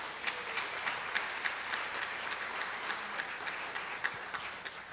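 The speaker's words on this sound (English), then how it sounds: "Let's give them a round of applause." An audience at a crisis prevention training session gives a round of applause: dense, even clapping of moderate loudness heard alone, with a few sharper individual claps standing out.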